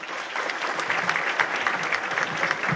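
Strong, sustained applause from a seated audience at a formal government ceremony with the President of the Republic, dense clapping continuing evenly without a break.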